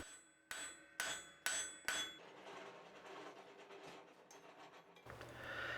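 Hammer striking a steel bar on an anvil while a blacksmith flattens a cooking fork, four sharp ringing blows about half a second apart, followed by quieter scraping and shop noise.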